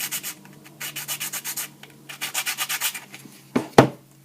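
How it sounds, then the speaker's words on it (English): A bastard file rasps back and forth along plastic edges in steady rhythmic strokes, pausing briefly between runs, then ends with a couple of sharp knocks. "This is a bastard file, by the way. Quite useful for smoothing out those edges."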